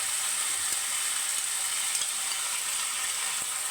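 Ginger paste and sour yogurt sautéing in a pan make a steady, dense, hissing sizzle that stays even throughout, broken only by a couple of faint taps.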